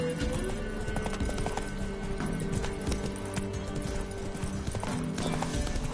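The horse Roach gallops in The Witcher 3 video game, with steady rapid clip-clop hoofbeats that run continuously under a dense layer of background game sound.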